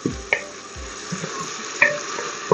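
Onions sautéing in a pan until soft and translucent for dal tadka, a faint steady sizzle with a few sharp clinks and scrapes of a spoon stirring, no talking.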